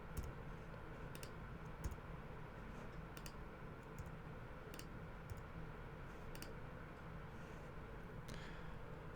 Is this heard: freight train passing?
no